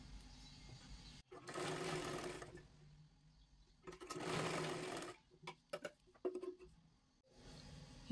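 A sewing machine stitches a blouse in bursts of fast mechanical whirring. Two long runs are followed by a cluster of short stop-start stitches and then another burst.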